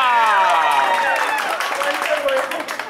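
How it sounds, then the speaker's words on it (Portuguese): Applause and cheering at a surprise birthday celebration for Rosa, a burst of clapping from a small group close by, mixed with excited voices. "Palmas pra Rosa!"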